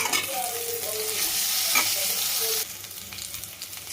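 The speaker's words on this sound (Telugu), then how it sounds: "ఇప్పుడు వీటి మళ్ళీ ఇంకోసారి కలుపుదాం." Stuffed ivy gourds frying in oil in a pan are stirred, steady close sizzling with scraping utensil strokes; the sizzle drops noticeably quieter toward the end.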